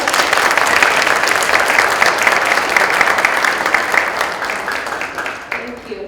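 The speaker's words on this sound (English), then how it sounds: "How about another round of applause for Gare?" Loud, sustained applause from a live event audience, close and full, continuing steadily before thinning slightly near the end as voices emerge beneath it.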